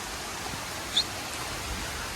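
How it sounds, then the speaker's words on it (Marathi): Heavy rain pours down in a steady, dense hiss that stays unbroken from start to finish, with no voices. "तुम्ही बघू शकता पाऊस किती पाऊस आलाय"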